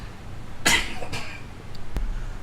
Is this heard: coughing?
yes